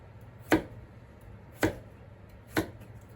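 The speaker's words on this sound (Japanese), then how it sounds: "乱切りはまずこのドイツの包丁で" Three sharp chops of a German chef's knife through a vegetable onto a cutting board, evenly spaced about a second apart, close and clear over quiet background.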